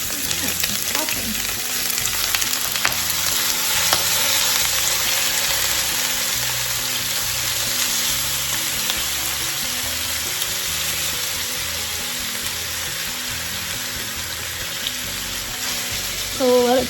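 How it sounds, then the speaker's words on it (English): Meat searing in a hot pan gives a steady, loud sizzle and crackle that runs unbroken throughout, with faint clinks near the end and no talk. "you're really just searing these on all sides"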